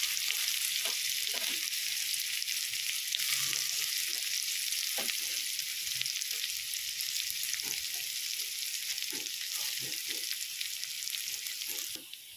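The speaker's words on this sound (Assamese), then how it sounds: "এতিয়া মই এইখন ভালদৰে ভাজি লওঁ" Crushed garlic and ginger frying in oil in a pan while cooking an Assamese khar dish, a steady close hiss and sizzle broken by frequent soft clicks and scrapes of stirring.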